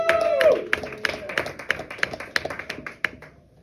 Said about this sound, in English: coming to the stage right now, round of applause for Joey Capuana.